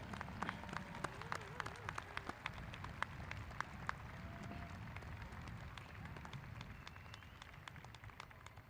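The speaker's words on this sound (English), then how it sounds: "give them all a huge round of applause, graduates" Graduates at a spring university commencement ceremony applaud their supporters, a steady, dense wash of clapping from a large crowd that runs throughout, with faint voices underneath.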